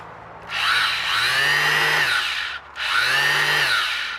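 A small BERALA FS90X187 4-inch rectangular orbital sheet sander buzzes steadily in two bursts with a brief pause between, a high whirring hum, close and loud with no talking.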